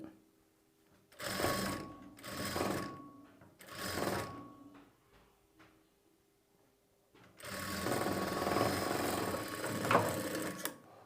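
A sewing machine stitching a blouse sleeve runs in short bursts: three brief whirring runs separated by pauses, then a longer continuous run near the end, close and clear with no talk.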